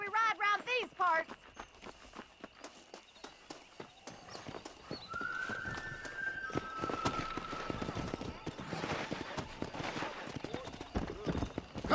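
Horses gallop in a race in the Western video game Red Dead Redemption, a steady clip-clop of hooves running under game music and speech, with a brief whinny early on.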